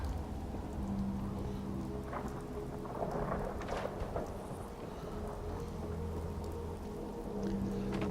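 Rainfall and rolling thunder from a stormy night in Fallout 4: steady rain patters on surfaces throughout while low thunder rumbles swell and fade in the background, with no voices.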